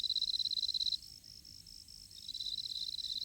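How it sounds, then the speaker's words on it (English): Crickets chirp in a fast, continuous high-pitched trill, added as a sound effect, starting strong, dipping quieter in the middle, then returning steadily, with no voices. "Crickets. Put crickets in."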